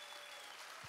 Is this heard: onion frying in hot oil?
no